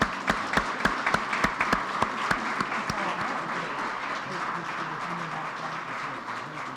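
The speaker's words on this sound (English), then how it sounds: "Let's give them a round of applause." Audience applause at an awards ceremony for a state coding competition and computer science educator award, starting with distinct loud claps that blend into steady, sustained clapping from a crowd for several seconds.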